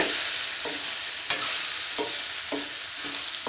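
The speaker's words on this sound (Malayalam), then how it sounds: "അതിലേക്ക് ഞാൻ ഫ്രൈ ചെയ്യാൻ വെച്ചേക്കുന്ന സോയാബീൻ ഇട്ട്" Soybeans frying in a pan with crushed garlic, a steady close sizzle broken by several sharp scrapes of stirring, no voices.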